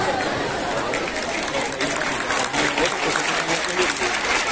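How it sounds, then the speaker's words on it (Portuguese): Audience applause at a school event for a museum project, dense continuous clapping from a crowd with chatter and talking mixed in throughout. "nós queremos pedir também os aplausos a vocês"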